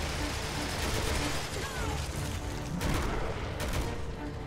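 Gunfire in the video game Resident Evil 6, dense rattling shots and booms layered over a busy in-game soundscape, loud and continuous with voices likely mixed in.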